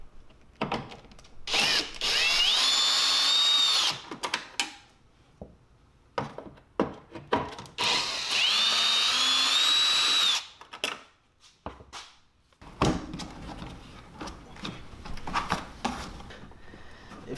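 A power drill unscrews the backup light cover on a Maserati Ghibli in two loud bursts of high whirring, each about two seconds, separated by clicks and handling noises, with softer fiddling and rattles afterward.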